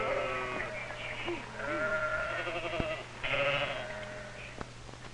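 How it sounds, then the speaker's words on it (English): Sheep kept on a farm for wool bleat several times in short, wavering calls, some overlapping, with quiet gaps between them. "What about the sheep?"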